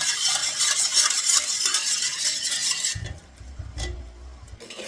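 A spoon stirs four cups of water in a cooking pot, a close scraping and swishing for about three seconds before it quietens to softer clinks and low knocks.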